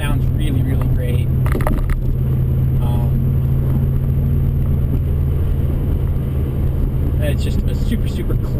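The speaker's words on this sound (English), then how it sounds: "we just barely hear the engine, hear the exhaust. It's not obnoxious. It sounds really, really great." A 2004 Subaru WRX boxer engine cruising at about 2,200 RPM through an Invidia Q300 catback exhaust, giving a steady, deep low drone that runs under continuous in-car talking throughout.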